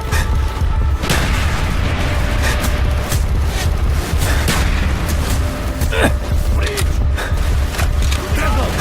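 Mortar fire in the Call of Duty: Black Ops video game: repeated heavy booms and thuds pounding through a dense, loud wall of battlefield noise.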